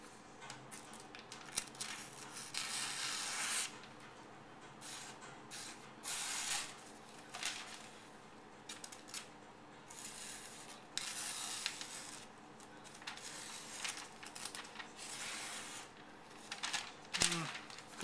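A freshly sharpened Les George VECP knife slicing through newsprint paper, giving repeated soft scratchy rasps and paper rustles at close range, quiet and irregular over faint background hum.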